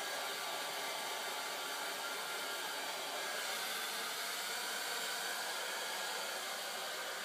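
A hair dryer blowing hot air through hair to add volume, a steady, unbroken rushing whoosh that stays close and even throughout, with no talking.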